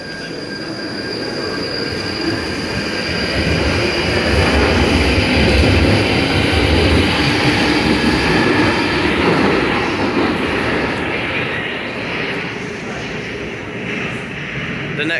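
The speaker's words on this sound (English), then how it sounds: "The next train to Mill Hill East is probably here already." A London Underground train rumbles through Bank station, a loud, steady roar of wheels and carriages with metallic squeal that swells and slowly fades, filling the platform closely throughout.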